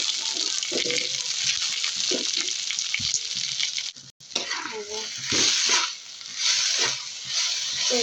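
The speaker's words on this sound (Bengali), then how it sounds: "আমার পেঁয়াজটা ভাজা হয়ে গেছে, বাদামি কালার হয়ে গেছে। এখন আমি শাকটা দিয়ে দিই।" Jute greens dropped onto browned fried onions in a hot pan, setting off a loud, continuous close sizzle with bursts of stirring and scraping that swell and ease, briefly cut partway through.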